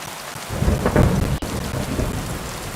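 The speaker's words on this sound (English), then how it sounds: "nice and rainy." Steady heavy rain falls in Kingdom Come Deliverance II while thunder rolls through the middle, loud and enveloping, with no voices.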